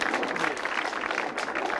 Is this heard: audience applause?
yes